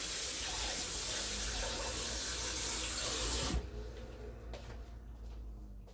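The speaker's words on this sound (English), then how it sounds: "Just washing off my hands." Tap water runs steadily into a sink while hands are washed in a kitchen during stew-making, a loud continuous splashing rush that cuts off abruptly partway through, leaving faint ticks and quiet room noise.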